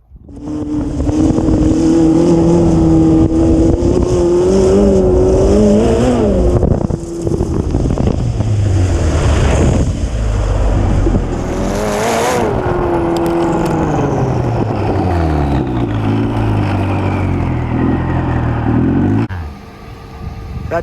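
A 400+ hp lawnmower's engine drones and revs steadily as it drives, pitch rising and falling with acceleration and gear shifts, loud and close throughout.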